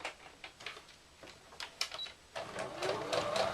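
A sewing machine stitches fabric for a gift bag in short bursts of rapid mechanical whirring, pausing between runs, then settling into a longer continuous stretch near the end.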